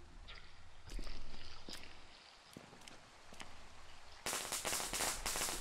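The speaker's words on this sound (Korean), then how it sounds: "나 던져볼까 폭죽?" A firecracker thrown in a horror video game, with scattered soft knocks and footstep-like taps before a sudden loud crackling burst of rapid pops that fills the last second and a half.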